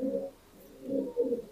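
Desi high-flying pigeons, an old Indian breed, give low, soft rolling coos in two or three short phrases, close by and clear with little else around.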